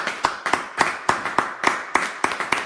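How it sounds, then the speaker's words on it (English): A round of applause at an online faith broadcast, heard as a few hands clapping in a slow, uneven rhythm of sharp, close claps. "let's give him a round of applause."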